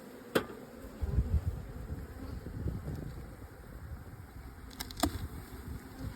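Honeybees hum at an open pink beehive on a farmstead, a close, steady buzzing swarm with a few sharp clicks and knocks breaking through near the start and again toward the end.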